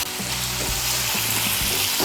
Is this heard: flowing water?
no